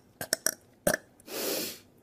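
A single drawn-out burp, loud and close, rising near the end of a short comedy vine after a few brief sharp vocal bursts.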